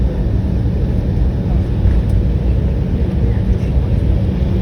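A deep, steady rumble fills the cabin of a United A320 as the airliner taxis, with a constant low engine drone and no talk.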